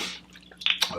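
A small drop of water falls into a glass of whisky, making a brief, close, wet drip and squish, with a couple of quick splashy ticks in about a second.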